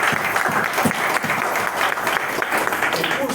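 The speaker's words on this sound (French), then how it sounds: "Si c'est le cas, alors vous pouvez applaudir." Audience applauding at an IT department handover ceremony, dense sustained clapping from a room full of people, loud and close, with a voice faintly underneath.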